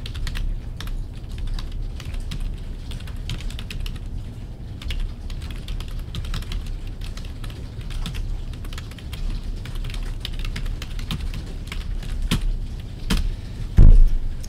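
Rapid typing on a computer keyboard, with steady clusters of close, crisp keystrokes and a louder thump near the end.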